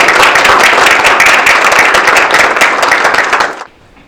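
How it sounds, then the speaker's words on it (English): An audience at a community celebration of African American communities in Montgomery County breaks into dense, loud applause that continues steadily for about three and a half seconds, then cuts off abruptly. "I will ask that you give yourselves a round of applause"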